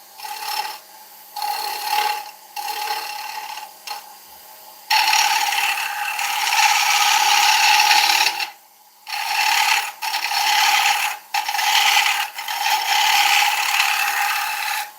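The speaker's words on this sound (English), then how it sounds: "Just shear scraping it to clean that corner down." Dieback ash being shear scraped on a wood lathe gives a loud, continuous dry rasp that runs in long passes, broken by a few short pauses as the tool lifts off the spinning wood.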